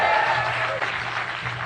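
Brief burst of audience applause and cheering for the DJ at a live podcast show at the London Irish Centre, loud and continuous from a packed room.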